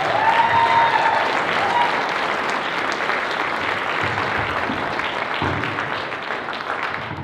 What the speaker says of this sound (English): everyone please give a big, huge round of applause for Trinette.